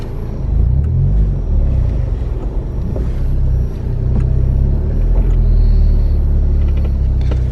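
A car reversing slowly, its engine a steady close low rumble that swells slightly toward the end, with no talk over it.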